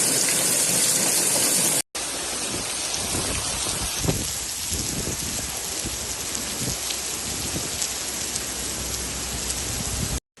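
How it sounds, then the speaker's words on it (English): Heavy rain pours steadily during a storm with hail in Spain, a dense, loud wash of water on surfaces with scattered sharper impacts, running continuously before a brief cut near the end. "The storm was also accompanied by hail at times, sometimes with large stones."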